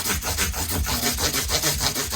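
Guitar frets on a custom build being sanded with 400 grit abrasive, a rapid rhythmic back-and-forth rasping of about four strokes per second, close and steady with no talk.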